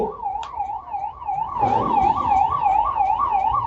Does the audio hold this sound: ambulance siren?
yes